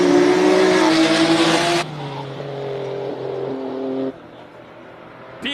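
A 2000s BMW E46 328, a normally aspirated six-cylinder rear-wheel-drive car, races up a Cape Town hill climb, its loud engine note holding high and then dropping through gear changes as it passes and fades.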